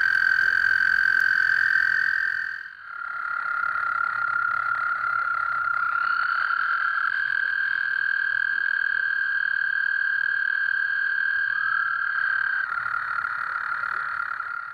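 Several American toads trill in long, steady high-pitched buzzing notes from pools of water, overlapping, one voice stopping briefly as others start, loud and close.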